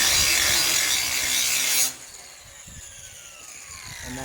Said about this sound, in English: now I'm gonna just grind me up a little spot back here